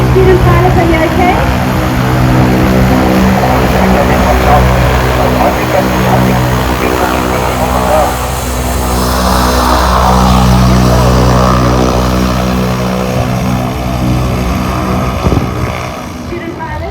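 A Bushcat light aircraft's propeller engine drones loud and close as it taxis at an airshow, a steady low hum under occasional talk.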